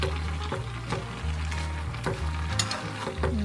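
Pancit canton noodles with cabbage frying in a pan, stirred with repeated scraping strokes over a steady sizzle, close up and fairly quiet, with no voices.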